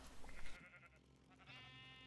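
Minecraft sheep bleat faintly in the Tekkit Lite modpack, short and quiet over low background game sounds, with no talking.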